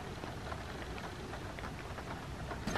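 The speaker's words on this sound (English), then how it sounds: "A little bit of rain is coming in, not too much." Light rain patters steadily outside an open window of a car parked for camping in the Peak District, England, a soft continuous hiss with a faint bump near the end and no talking.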